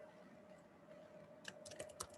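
A few quick clicks on a computer keyboard, a small cluster of close, crisp key presses near the end, faint and alone over a quiet steady hum.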